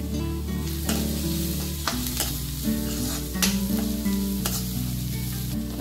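Spices with a quarter teaspoon of turmeric sizzle in a pan for Goan-style potato poha, stirred with steady scraping and a few sharp spoon taps over a constant low frying hiss, with background music running underneath.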